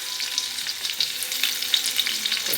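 Onions sizzle steadily in a hot pan with curry leaves, the base for a drumstick, tomato and brinjal curry. The frying is close and constant, with small crackles and no voices.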